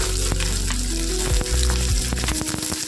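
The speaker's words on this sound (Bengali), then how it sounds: "এটাকে ভাজা ভাজা মতো করতে থাকবো" Cubed eggplant frying in hot oil for a Bengali lote fish jhuri makes a dense, loud sizzle. A low hum and a few stirring knocks run under it, close up and without speech.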